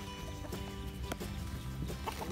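A rooster on a farm near a red chicken coop, with faint farmyard calls and brief bursts amid steady outdoor background noise and other livestock sounds.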